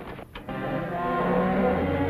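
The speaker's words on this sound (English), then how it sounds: "I still hear the cattle and the goats." Cattle mooing from a 1962 television program, a sustained low bellowing moo that swells and holds for about two seconds, loud and close with no talk.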